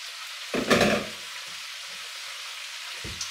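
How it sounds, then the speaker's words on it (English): Pasta tossed with prawns and butter in a wok gives a sudden loud sizzle as it goes in, which quickly settles to a faint crackle with a few soft stirring sounds. "I'm going to put the pasta through the prawns."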